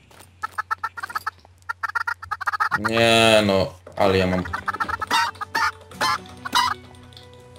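Chickens cluck in a Minecraft Lucky Blocks match, repeated short clucks near and loud, while someone speaks at length over the middle of the clip.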